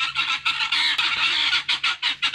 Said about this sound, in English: There's the guinea hens and the chickens.